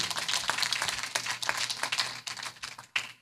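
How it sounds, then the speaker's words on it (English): Hand clapping from an audience at a gubernatorial candidates' town hall, a dense, steady burst of many hands lasting a few seconds with no voices over it. "Can we give our candidates a hand clap?"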